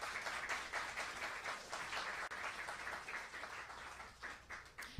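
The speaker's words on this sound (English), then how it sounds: "please give our readers for today a big round of applause" Audience applause at a book launch reading at the Miami Book Fair, a steady moderate clapping from a small crowd lasting several seconds, slightly distant and thinning toward the end.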